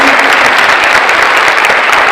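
Dense, steady applause from a large audience at a high school senior awards ceremony, loud and continuous throughout with no voices rising above it.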